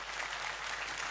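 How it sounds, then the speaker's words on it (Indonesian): Dense applause from a large crowd at an outdoor religious gathering in Kudus, a steady wash of many hands clapping at once, loud and continuous without pause. "Sekali lagi tepuk tangan untuk bupati kita."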